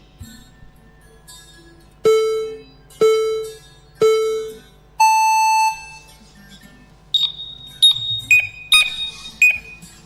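An FPV drone race start signal sounds: three evenly spaced short beeps, then one longer, higher tone, followed by a quicker cluster of bright electronic chirps, loud and clear over a quiet background.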